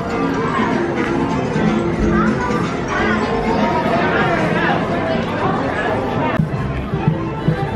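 Dense crowd chatter and babble fill a busy Disneyland park on a weekday, a steady loud hubbub of many overlapping voices with footsteps and activity, continuous throughout.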